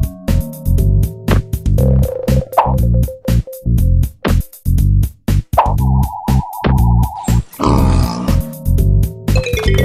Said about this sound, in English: That's right, it's a pig.